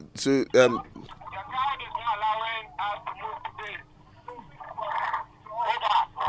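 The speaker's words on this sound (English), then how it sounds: "what you're hearing is from his radio" Voices crackle through a police two-way radio in short clipped transmissions, thin and band-limited, with brief pauses and a steady faint hum between them.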